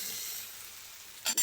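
A pan of okra curry sizzles and fries steadily, the soft hiss carrying on quietly before a brief louder scrape and clatter of stirring near the end.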